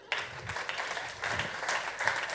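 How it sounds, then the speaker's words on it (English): Audience applause for an executive at a music-industry panel talk, a steady dense wash of clapping with no voices over it. "Give a warm hand of applause for Frank Briegman."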